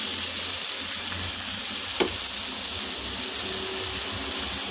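Green undhiyu vegetables with a little water sizzle steadily in a pan over a low flame, a constant close frying hiss with a faint stir or tap partway through.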